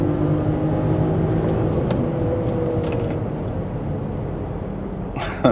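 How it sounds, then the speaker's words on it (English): A car with a Stage 1 tune pulls hard in fourth gear from 2,500 RPM, a steady close engine drone rising gradually with road and wind noise throughout and a brief bump near the end. "We'll do a 4th gear pull."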